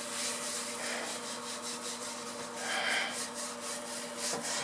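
Cleaning paste rubbed by hand onto the plate of a cool clothes iron gives a steady close scratchy rubbing, continuous for several seconds with no talking.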